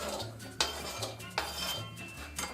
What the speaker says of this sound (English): Now we'll grab our mixing bowl.